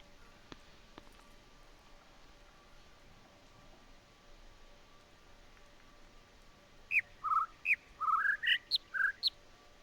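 Birds in The Witness game call in a quick run of about ten short bright chirps and whistles, loud and close, after a long stretch of faint hiss with a couple of soft clicks.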